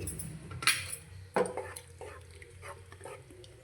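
Drumstick pieces go into a cooking pot of water for egg curry, giving two sharp clinks against the metal followed by quieter stirring and light knocks at close range.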